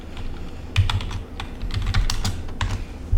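Fingers type on a computer keyboard, a quick uneven run of close, crisp key clicks and taps with no voices.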